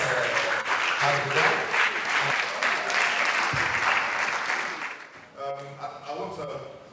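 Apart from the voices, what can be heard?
audience applause for conference panelists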